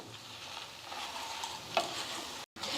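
Spices dry roasting in a pan for sambar powder, a steady soft sizzle with stirring scrapes and one brief clink, close and continuous before a short silent cut near the end.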